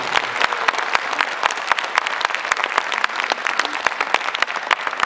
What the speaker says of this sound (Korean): 우리 학사님께 큰 박수 부탁드립니다.